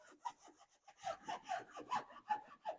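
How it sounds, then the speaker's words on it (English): An applicator pad rubs across black exterior plastic trim on a Toyota Tundra, wiping off excess trim restorer. It makes a soft, rhythmic scrubbing of short strokes, quiet and close, with no talking. "Put a little on an applicator, apply it, and then I usually come back through and wipe any excess off."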